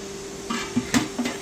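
Idli trays set into a steamer pot that already holds water make a few light metallic clinks and knocks in quick succession, close by and fairly quiet.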